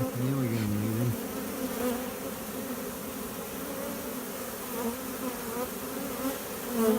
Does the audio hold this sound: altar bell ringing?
no